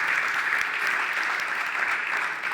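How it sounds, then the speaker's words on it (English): An audience at a roundtable discussion breaks into applause, a dense, even wash of clapping that stays loud and constant throughout. "You can applause, you can applause."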